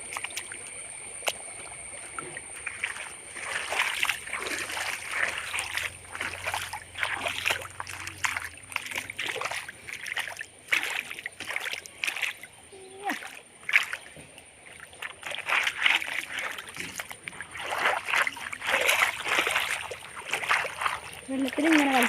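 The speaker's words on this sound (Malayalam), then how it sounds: "കാലൊക്കെ കഴുകിക്കഴിഞ്ഞു" Muddy feet and mud-caked sandals are washed in shallow outdoor water, with repeated splashes and sloshing swishes in an irregular rhythm close by.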